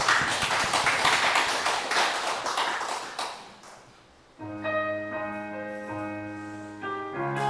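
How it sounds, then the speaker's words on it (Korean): Applause from a church congregation after a closing prayer, dense claps for about three seconds that thin and fade, followed by sustained organ or keyboard tones entering alone. "우리 영광의 박수 드리겠습니다"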